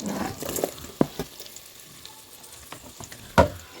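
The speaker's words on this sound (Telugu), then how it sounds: "ఈ రెండింటిని మంచిగా ఆయిల్లో ఫ్రై అవ్వాలి." Onion and green chillies frying in ghee: a steady crackling sizzle with soft stirring scrapes and a couple of louder spoon knocks against the pan.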